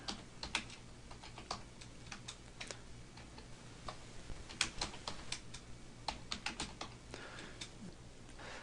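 Fingers tap out text on a computer keyboard, irregular quiet clicks in quick runs and pauses, close up, with no voice over them.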